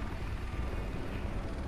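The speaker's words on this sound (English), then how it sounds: "Why is there a helicopter?" Helicopter in the video game Far Cry 4, a steady loud rotor and engine drone that fills the short stretch with no voices over it.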